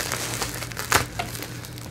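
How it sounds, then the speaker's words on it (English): Packaging around a new GTT Mirage glassblowing torch being unwrapped up close, with scattered crinkling and rustling and one sharper tearing burst midway. "And more unwrapping here."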